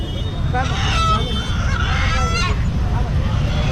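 Loud honking and squawking chickens and ducks crowd together in a noisy village poultry market, with human chatter mixed into the constant din.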